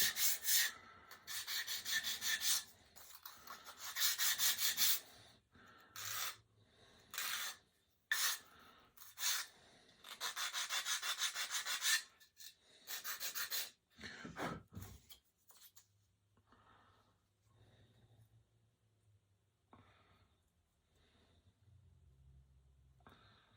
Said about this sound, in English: I might grab a sanding block and sand it a little bit.